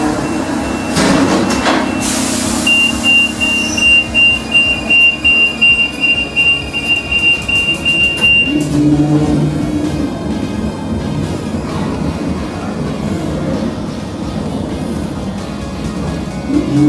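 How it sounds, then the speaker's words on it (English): A lift rides through a Paris Metro station with a steady loud mechanical hum and rumble, a long thin whine holding for several seconds, and faint squeals from the surrounding rail machinery. "Anyway, let's ride this lift."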